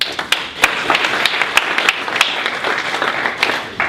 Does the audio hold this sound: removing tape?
no